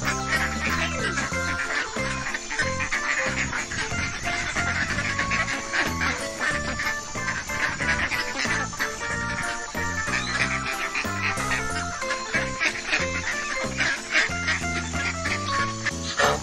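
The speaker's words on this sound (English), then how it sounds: "Bebek, duck, quack, quack, quack, quack, quack." A duck quacks over and over in a busy, repeated run of quacks, with farmyard animal sounds and a constant layer of background music beneath.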